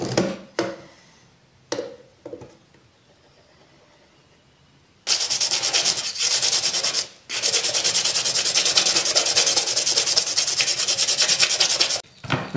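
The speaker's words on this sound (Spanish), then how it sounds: "vamos a marcar, a lijar un poco tanto el tubo como la cara interior de la bisagra" Rough sanding of a PVC pipe and the inner face of a hinge, first in a few short scrapes, then long steady bursts of abrasive rubbing, close and loud.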